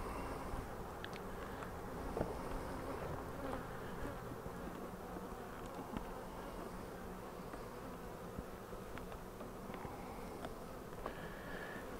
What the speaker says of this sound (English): So we have lots of field bees at home right now.